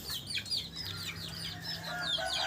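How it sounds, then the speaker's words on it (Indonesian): A broody village hen clucks softly amid scattered chirps and rustling from other birds nearby, with a low steady hum underneath. "Dan ini babonya teman-teman ya."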